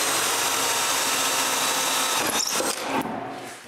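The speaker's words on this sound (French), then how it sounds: "là, je le perce." A power drill bores a hole through a wooden spacer on a shop-built wooden band saw, a loud continuous whirring grind that wavers and tapers off as the bit breaks through.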